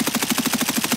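A video game gun fires in a rapid automatic burst: a close, loud, evenly spaced rattle of about a dozen shots packed into one second, with no voices.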